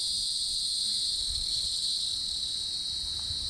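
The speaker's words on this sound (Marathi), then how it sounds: "कुठं एक दोन नसतील, अजून किडे असतील का पक्षी आहेत? नाही, किडे आहेत." Loud insects drone in a shrill, unbroken chorus near a pumpkin patch, the dense chirping holding steady and piercing, with faint low rustling beneath.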